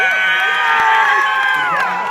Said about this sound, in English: The crowd erupts with applause.